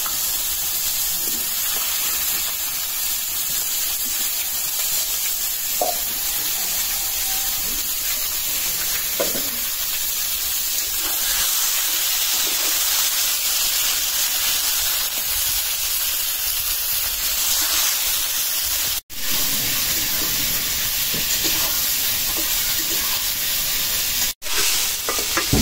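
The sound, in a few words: eggplant frying in oil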